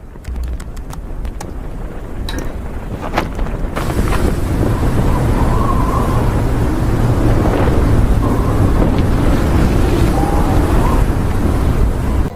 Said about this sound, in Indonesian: Namun ia merasakan hal aneh saat angin tiba-tiba bertiup kencang